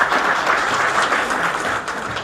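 A crowd of electricians at a Polycab India company event breaks into steady, dense applause, loud and sustained for a couple of seconds before easing slightly.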